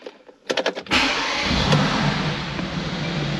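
A car engine cranks with a short burst of starter clicks, then catches and settles into a steady, close idle, started by a key placed in a slot inside the center console; no talking.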